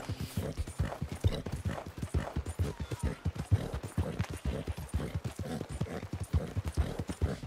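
A horse gallops in the Red Dead Redemption 2 video game, its hoofbeats a quick, steady clip-clop that runs evenly from start to finish.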